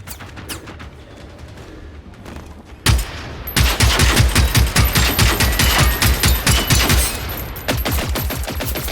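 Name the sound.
rifle gunfire in the video game Generation Zero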